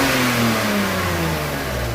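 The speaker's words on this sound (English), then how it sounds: "Only this time, when he revs it up," A car engine revs up loudly and close by, a steady droning tone holding its pitch and then sagging slightly over two seconds, with no voices over it.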